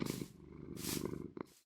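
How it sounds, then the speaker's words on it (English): A cat in Minecraft Bedrock Edition purrs in a soft, rhythmic rumble, close and quiet, with a couple of breathy pauses between purrs. "cats can now purr again"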